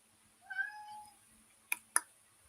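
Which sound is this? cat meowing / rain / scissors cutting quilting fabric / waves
cat meowing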